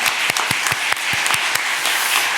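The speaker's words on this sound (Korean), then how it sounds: "우리 박수로 격려하고 축하해 주시겠습니다." A church congregation at a Korean Sunday worship service honoring newly appointed honorary deaconesses claps in congratulation, a loud close burst of many hands with a few distinct sharper claps standing out.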